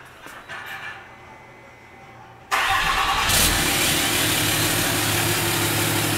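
Car engine cranking and catching, a short churn that bursts into a loud, steady idle close by, after a quieter stretch of background rumble and no speech.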